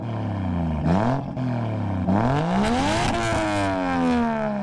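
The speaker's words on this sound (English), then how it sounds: "Shotgun exhaust, I don't think it's a brand or anything." Toyota JZX100 Chaser with a loud shotgun exhaust, revving close up: the engine climbs in pitch three times in quick succession, briefly dipping between blips, then holds a high, raspy note with no talking.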